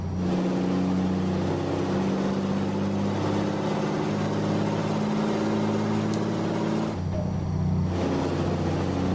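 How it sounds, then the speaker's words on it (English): Truck engine in American Truck Simulator, a loud, steady low diesel drone with a brief dip and hiss near the end, close and continuous with no talk. "the sound of that engine"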